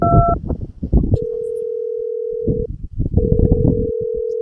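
A phone number is tapped out on a mobile keypad, a few quick keypress tones followed by long steady beeps, with background chatter and room noise underneath; a voice speaks briefly at the start.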